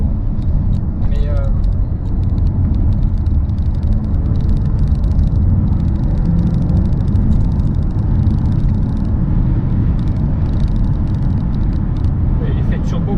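An Alfa Romeo Tonale Speciale 2023 with a 1.3-litre turbo Q4 hybrid drivetrain climbs a gentle mountain pass at an easy pace, its steady low engine and road rumble droning throughout from inside the cabin, with no talk.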